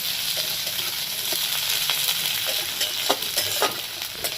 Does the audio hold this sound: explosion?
no